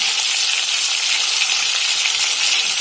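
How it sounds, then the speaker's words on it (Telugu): Eggplant and masala spices sizzle steadily in hot ghee for vangi bath, a dense, even hiss of close frying with no pauses and no voices. "ఇప్పుడు దీన్ని వేయించుదామండి నెయ్యిలో నెయ్యి"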